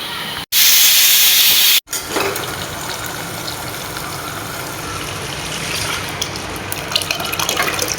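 A large pressure cooker cooking rice lets out a loud, sharp burst of steam hiss lasting about a second, followed by a softer, ongoing bubbling and hissing background.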